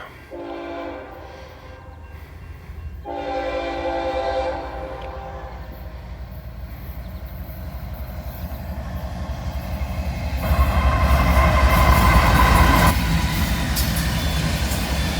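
A Norfolk Southern freight train passes with Southern and Wabash heritage locomotives in the lead, a loud horn blaring over the deep rumble and rising roar of engines and rolling cars.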